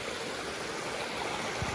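A jungle river running full of water in the rainy season rushes with a steady, even roar. It sounds close and constant, with no voices.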